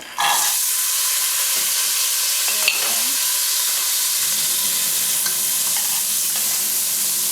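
Peas cooking in a pan over medium heat give a loud, steady hissing sizzle that sets in abruptly and holds throughout, with occasional faint clinks and pops close by.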